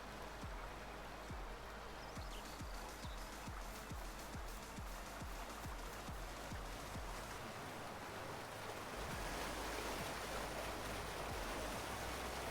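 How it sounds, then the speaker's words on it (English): Continuous running water ambience from Farming Simulator 19 on the Welker Farms map, a steady broadband rush with faint repeated low thumps in the first half, growing slightly brighter toward the end, heard alone without speech. "Got running water again."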